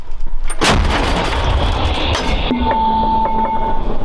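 A Ukrainian assault unit's artillery gun fires a round at a stationary target, a building or shelter, giving one loud, sharp blast followed by a rolling, ringing rumble that trails off.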